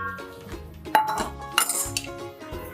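Metal spoon scraping and clinking against a pot while egg masala is slowly stirred, with a few sharp clanks among softer scrapes, close and alone over a faint musical background.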